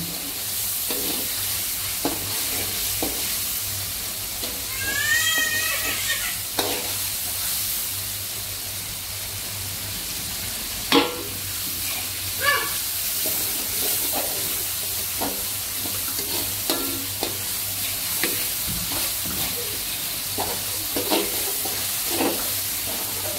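Duck meat sizzling steadily as it fries in an Acehnese-style curry pot, with scattered stirring clatters and scrapes of a utensil against the pan throughout, no voices.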